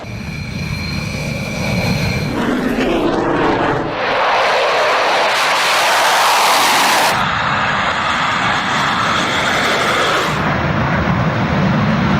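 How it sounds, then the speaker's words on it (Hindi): Rafale fighter jets take off at night with a loud, sustained roar that swells and shifts in tone as the aircraft power away one after another. "रात के अंधेरे में एक के बाद एक रफाल ने टेक ऑफ किया"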